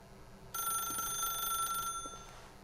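A telephone rings in the video game The Stanley Parable, a bright electronic trill held steady for over a second over a low background hum, then cutting off.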